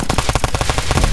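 A fast burst of automatic gunfire from a hard-recoiling gun in a Roblox hood roleplay game, a rapid even rattle of shots, loud and close with no voices.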